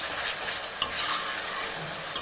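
Bhetki fish frying in a pan, a steady close sizzle of hot oil running throughout with a couple of sharp clinks or stirs, no voices.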